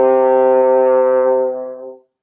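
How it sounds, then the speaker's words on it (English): A single sustained low G on a horn, one steady brassy tone held close and loud for about two seconds before tapering off into silence. "Rest, 2, now low G."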